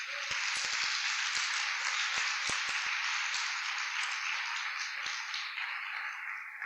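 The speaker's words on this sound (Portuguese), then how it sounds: "Pode aplaudir Jesus." An audience at a sermon applauding, a steady, sustained wash of many hands clapping at once with a few sharper individual claps standing out, continuous and fairly even in volume.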